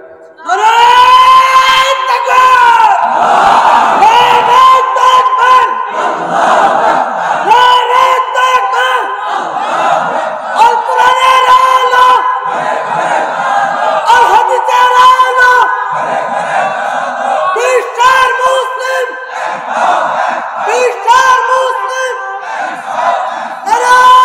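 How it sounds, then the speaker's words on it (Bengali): A large crowd at a Bangladeshi religious gathering roars the takbir in unison after a single leader's call, loud rhythmic chanted responses repeating for over twenty seconds, voices massed and close. "আপনাদের থেকে একজন তাকবীর দিবেন, একেবারে প্রাণবন্ত হবে যেই তাকবীর"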